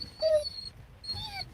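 A pet dog named Ollie lets out two short, high whimpers close by, separated by a brief pause, in a quiet room.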